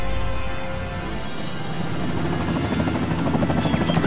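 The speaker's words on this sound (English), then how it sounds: "we got choppers coming in from the east" Helicopters approach in the video game Project: Snowblind, a loud, steady rotor chop with a rhythmic thumping that builds as they arrive.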